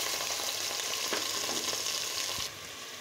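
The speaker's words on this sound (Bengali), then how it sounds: "বন্ধুরা আমি এখন এই মশলাগুলিকে খুব সুন্দর করে তেল ছেড়ে দেওয়া অবধি ভাজতেই থাকবো।" Ground spices and ginger-garlic paste frying in hot oil for chicken biryani, a steady broadband sizzle with a few stirring scrapes, continuous and close, dropping slightly quieter near the end.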